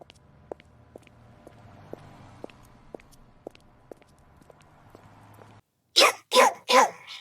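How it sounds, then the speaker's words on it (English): A dog barks three times in quick succession, loud and close, after a quieter stretch of city street ambience with soft footsteps. "Follow the barking!"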